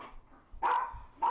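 A couple of sharp dog barks ring out from nearby, separated by a short pause, with quiet in between.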